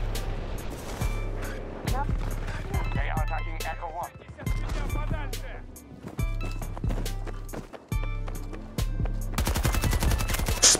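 AK24 rifle fire in Battlefield 2042 multiplayer Conquest: loud, rapid bursts of automatic gunshots repeating in quick strings throughout, with heavier sustained firing near the end over game background noise.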